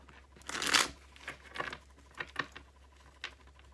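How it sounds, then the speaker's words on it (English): Tarot cards being shuffled by hand, a longer riffling burst followed by several short soft papery shuffles, close and quiet with no talking. "Let's do some more shuffling."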